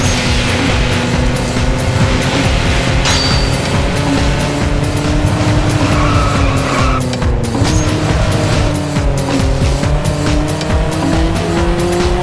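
Race cars roar continuously with sustained engine drones shifting pitch and repeated tire squeals and skids, loud and steady throughout, from the Dreamcast racing game Faster Than Speed.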